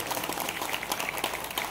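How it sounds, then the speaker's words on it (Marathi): A crowd at a community celebration for Lokshahir Annabhau Sathe's birth anniversary applauds the event's organising couples, a fairly faint but sustained patter of many hands clapping at a steady level. "खरं तर या दोन्ही दाम्पत्यासाठी आपण जोरदार टाळ्या वाजवल्या पाहिजे"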